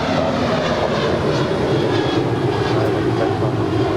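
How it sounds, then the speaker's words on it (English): An Airbus A320, delivered to United Airlines in 1993, landing at LAX from Phoenix, its engines a loud, steady broadband roar close by, holding level throughout without speech. "2362 coming in from Phoenix, Arizona in this A320."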